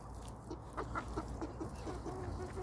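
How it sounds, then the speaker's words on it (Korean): A rooster's crowing and clucking calls among farmyard fowl, moderately faint, with repeated short vocalizations over steady background noise. "배슬이 큰건 장닭입니다"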